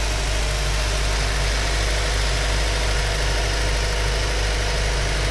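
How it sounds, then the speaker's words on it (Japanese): A Honda Integra Type R (DC2) engine idles steadily and normally with a low, even rumble and a faint regular pulse, continuous and close, with no voices. "エンジンかけてみました"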